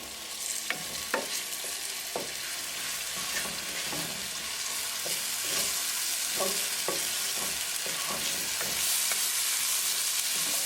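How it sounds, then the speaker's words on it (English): Ginger, garlic and green chili paste fries in a pan for a cod fish curry, a steady sizzle broken by scattered spoon scrapes and knocks as it is stirred. "And now we're going to bring ginger, garlic and green chili paste. Mix it well."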